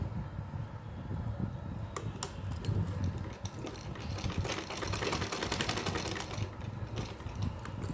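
Sewing machine stitching a dress for a Laddu Gopal deity outfit, running steadily and close for most of the clip, with a brief quieter start and no talk.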